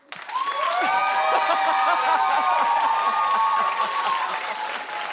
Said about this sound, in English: Clap if you're not.